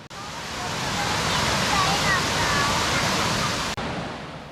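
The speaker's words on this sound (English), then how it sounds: "The sounds of the waterfalls with the serenity and tranquility of this idyllic environment really allow you to relax." Waterfalls cascading into natural turquoise pools near Luang Prabang, Laos, a dense, steady hiss and roar of falling water that swells in and holds evenly, loud and unbroken.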